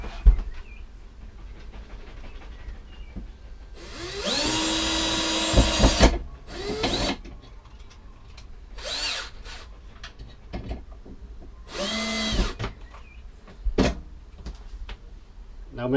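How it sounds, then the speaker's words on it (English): A power drill driving a small screw whirs in several short bursts of varying length, with quiet handling noises and small clicks between them. "Let's try drilling a small screw in there to see if we can't pull it out."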